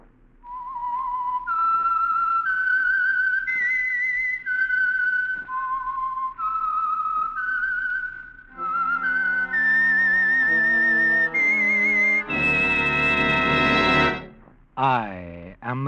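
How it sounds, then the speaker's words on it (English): Whistled signature theme of the Signal Oil radio program The Whistler, a 1949 mystery drama: a lone clear melody of rising and falling notes, loud and close, running steadily over faint background music. "the signal to listen for is this whistle that identifies the Signal Oil program"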